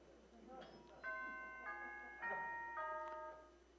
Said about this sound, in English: Here's Roger going to ring that first bell